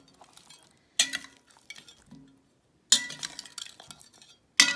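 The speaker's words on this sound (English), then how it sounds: "Salt and turmeric and chili powder. So I'll mix well and then I will fry." Fish pieces are mixed by hand with salt, turmeric and chili powder in a metal bowl, producing a few bursts of close clinks and wet rubbing separated by short pauses.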